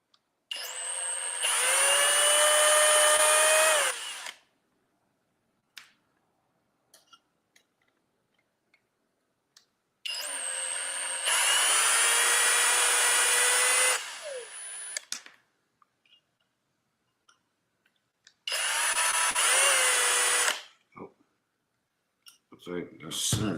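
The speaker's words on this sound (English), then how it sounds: "Having this drill is so much better" A cordless drill works on a Kraton RC car with a 2 mm bit, giving three separate whirring bursts of a few seconds each, close and loud, with quiet pauses and small handling clicks between them.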